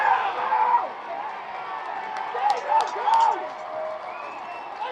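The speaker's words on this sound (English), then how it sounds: "The crowd is cheering him on" A crowd at a Hartford Yard Goats minor league baseball game against the Reading Fightin Phils cheers in a steady din, with louder swells rising and falling, and voices mixed in.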